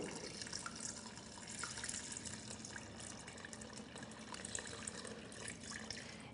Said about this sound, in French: Je vais mouiller avec 1 litre à peu près d'eau.